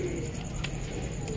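Lakha pigeons from Nankana Sahib cooing softly at close range, low murmuring coos under a steady background hum.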